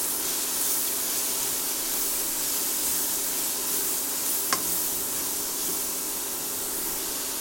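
Grated cabbage added to a pan of cooked-down mashed tomatoes for an Indian cabbage curry, a steady close sizzle and hiss of frying with faint stirring and one brief scrape midway.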